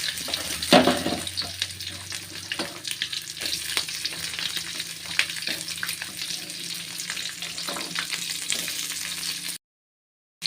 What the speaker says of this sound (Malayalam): ഇതിലേക്ക് കരിയപ്പിലിടുകയാണ് ഇതിലേക്ക് നമുക്ക് ഉള്ളിയും വെളുത്തുള്ളി ഇട്ട് കൊടുക്കാം